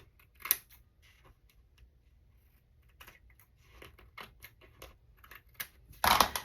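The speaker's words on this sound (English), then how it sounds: "I'm just going to take my scissors and trim off that part where it's not even" Scissors trim the uneven edge of a paper sunglasses scrapbook border, sounding as a series of close, sharp, sparse snips and clicks with quiet gaps and a louder rustling cut at the end.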